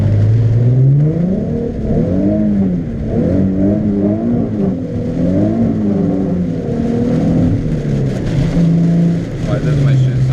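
A Nissan 370Z fitted with a lightweight clutch, lightweight flywheel and stage 2 clutch, driven on a rainy day, gives a close, continuous engine drone whose revs rise and fall in repeated sweeps throughout.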